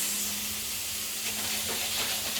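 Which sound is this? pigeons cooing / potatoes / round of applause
potatoes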